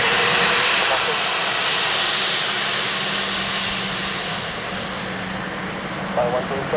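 A jet airliner taking off at Dublin Airport, a loud, steady broadband engine roar filling the whole stretch, with faint voices murmuring beneath it.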